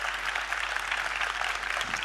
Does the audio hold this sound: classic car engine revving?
no